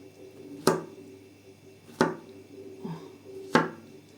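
Strawberries being sliced on a board for drying: three crisp knife chops spaced about a second and a half apart, close and clear over a quiet background.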